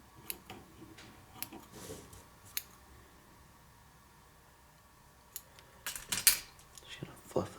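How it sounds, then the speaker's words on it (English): Faint, sparse metallic snips and clicks of scissors trimming hair, scattered over quiet background hiss, with a few louder clacks near the end. "take your scissors and trim off any real long hairs"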